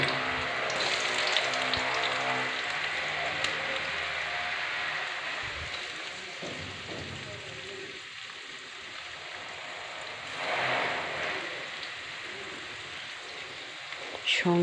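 Chopped onions sizzle and crackle in hot oil in a wok, a steady close hiss with a brief louder surge partway through, no voices.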